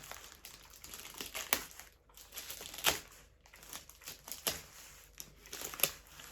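Crinkling plastic and paper tearing as a heavy postal parcel is opened, with irregular rustles and sharp rips at close range, no speech.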